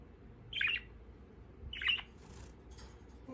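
A baby budgie parakeet gives two sharp, close squawks about a second apart, followed by fainter chirps over a quiet room.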